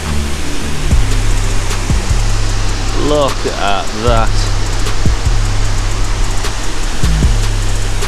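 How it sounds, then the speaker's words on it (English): A waterfall roars below a viewing platform on the North Coast 500 in Scotland. The rush is loud and constant, with low wind buffeting and a brief spoken exclamation partway through. "We're directly above the waterfall"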